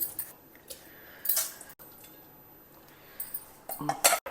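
Soaked rice tipped into a pot of boiled-over milk for pongal and stirred, giving a few sparse metallic clinks and scrapes of a spoon against the pot over a quiet background.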